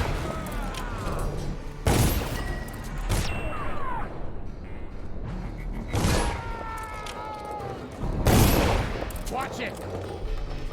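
Gunfire in the video game Dishonored, loud repeated shots and booming blasts over a busy combat din, with voices calling out at moments.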